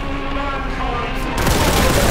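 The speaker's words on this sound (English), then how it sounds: "Warhammer 40k Bolt Gun is an amazing shooter with chunky pixels, jibbing demons, and a taunt button" Weapons fire in the pixel-art shooter game Warhammer 40k Boltgun, a loud, dense wall of rapid gunfire and blasts that swells even louder partway through.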